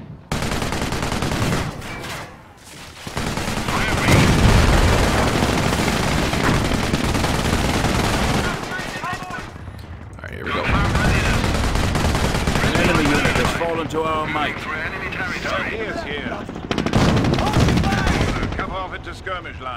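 Dense gunfire and machine-gun bursts rattle almost without pause through a Company of Heroes battle at Arnhem, loud and near, with brief lulls and shouted unit callouts mixed in.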